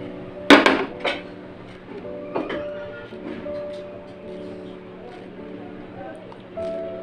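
A knife cuts a Chaunsa mango into cubes on a board, giving a few sharp taps and knocks spread across the stretch, with a faint hum in the background.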